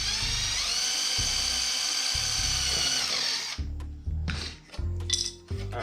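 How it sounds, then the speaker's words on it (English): A power drill bores a small hole while lighting is fitted to a Can-Am Ryker: a loud, steady whine for about three and a half seconds, then stops, followed by a few light clinks and taps of metal parts. "I'm gonna drill another little hole."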